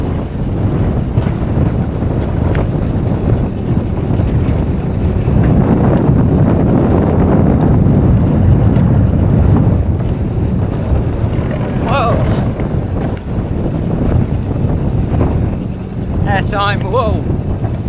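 Rushing wind roar while riding an alpine coaster down a ski resort slope in the Italian Alps, a loud steady buffeting throughout, with a rider's brief exclamations rising near the end.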